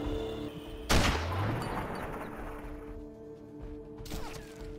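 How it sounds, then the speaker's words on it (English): Heavy-caliber sniper rifle shot in the shooter game Sniper Ghost Warrior, one sharp loud blast followed by a long rolling echo and a faint second report near the end, over steady background hum. "They don't hear these the big caliber bullets coming out of the sniper, huh?"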